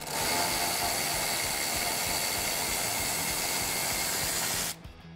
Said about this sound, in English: swap over to the 8 millimeter socket and remove these two bolts right above our strut